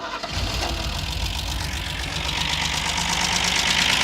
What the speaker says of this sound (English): After a lot of cranking, it fired up on the 20-year-old gas that was still in the gas tank.